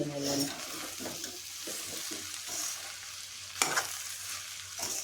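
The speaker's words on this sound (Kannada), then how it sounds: "ಎಲ್ಲವನ್ನು ಚೆನ್ನಾಗಿ ಮಿಕ್ಸ್ ಮಾಡ್ಕೊಳ್ಳೋಣ" A spoon stirs egg fried rice seasoned with pepper powder and salt in a hot pan, giving soft scraping strokes over a faint frying sizzle, with one sharper clink partway through.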